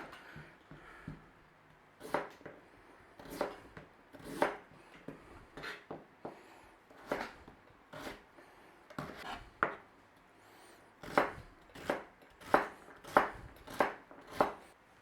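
Carrot being diced with a knife on a cutting board, a run of sharp, close chops in uneven bursts that grow faster and louder toward the end, with no talking.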